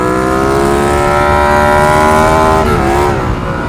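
A turbocharged motorcycle engine revs hard and loud close by, its rising whine steady and strained, then dips briefly as it shifts before climbing again.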